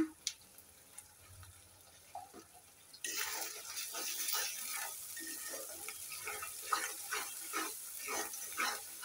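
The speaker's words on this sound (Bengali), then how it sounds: "মশলাটা ভালো করে কষিয়ে নিতে হবে।" Shrimp masala fries in oil with turmeric, giving a steady close sizzle that starts abruptly and carries light stirring scrapes through to the end.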